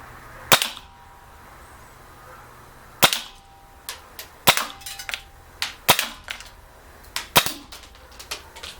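G&G GS-801 CO2 blowback airsoft pistol fired outdoors in a field test: sharp, snappy pops, single shots at first, then a quicker string of shots with small clicks and impacts between them.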